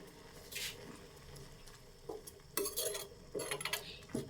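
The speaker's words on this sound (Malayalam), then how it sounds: "ഒന്ന് ഇളക്കി ഇട്ടേരാമ." A utensil stirring a boiling herbal hair-oil mixture in a pot: faint scraping and clinking strokes in a few separate bursts, with a soft bubbling background and no talking.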